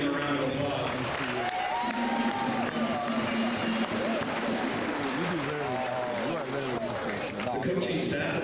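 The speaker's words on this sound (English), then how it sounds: "let's give them a round of applause" A gym crowd at a high school boys basketball senior night applauds the coaching staff, sustained clapping and cheering filling the room while an announcer's voice carries over it.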